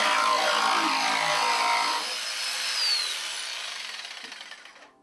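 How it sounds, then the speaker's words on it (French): A luthier's jigsaw cuts a small notch in a guitar with a close, steady buzzing rasp that eases off and fades out at the end. "Avec la scie qui saute, j'ai fait cette petite entaille."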